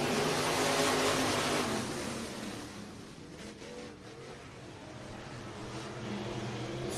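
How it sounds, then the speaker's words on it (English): Stock cars roaring around a short oval track during a heat race, a loud engine wash swelling as the pack passes, then fading and building again, with no voices over it. "Three-car battle for the top spot right away in this one."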